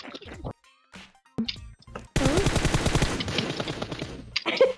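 Rapid gunfire from PUBG Mobile gameplay sounds as a dense automatic burst lasting a couple of seconds, with players talking over it before and after.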